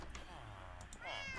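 A Minecraft cat gives a single rising meow near the end of the clip, following a fainter mew, with a voice talking softly underneath.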